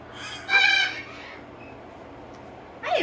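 African grey parrot vocalizing in short bursts, a chirpy squawk near the start and another rising call at the end, with quiet pauses between.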